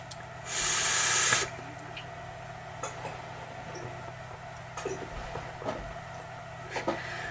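A Sigelei Fuchai 213 box mod fires for about a second with a loud, steady hiss as vapor is drawn, followed by quiet ticks and small clicks.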